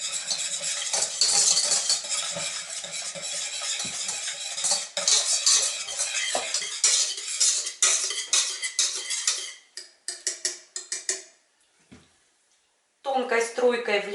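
A metal whisk clinks and scrapes rapidly against a bowl while stirring dissolved gelatin into cream, a busy continuous rattle that pauses briefly near the end before resuming.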